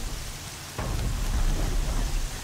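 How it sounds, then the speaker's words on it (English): Pouring rain with a burst of thunder in the Horizon Zero Dawn video game: steady hissing rainfall, then a sudden rolling thunderclap that swells and lingers, loud, with no talk. "Oh, it's pouring."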